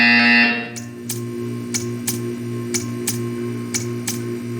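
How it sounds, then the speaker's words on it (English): Repeated short buzzer beeps from the Portal 2 art-staring test, about eight sharp evenly spaced pulses roughly half a second apart over a steady electronic hum, following a louder tone at the start. "You will hear a buzzer."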